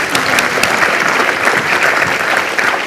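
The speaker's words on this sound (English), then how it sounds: "so round of applause for you guys." Audience applauding at the close of a panel discussion at a livestock policy day event, steady dense clapping throughout, loud and close.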